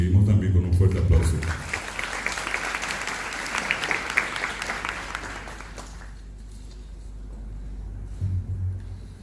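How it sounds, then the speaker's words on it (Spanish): Warm audience applause greeting a speaker at an international obstetrics congress in Paraguay, a crowd of steady claps swelling after a voice, then fading out as the hall quiets. "La recibimos también con un fuerte aplauso"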